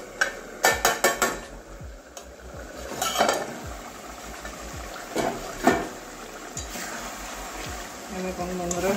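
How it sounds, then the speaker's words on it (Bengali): A metal pot lid clanks and rattles as it is lifted off lote fish cooking down for bhuna, a quick cluster of close knocks followed by scattered clinks and a faint simmer, with a voice talking over it. "আবারও ঢাকনাটা খুলে দেখছি"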